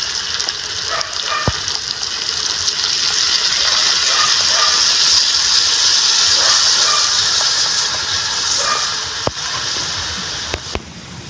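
Coke poured into a hot, oily pan of pork adobo sizzles and hisses loudly and steadily for several seconds, with a few faint clinks of utensils near the end.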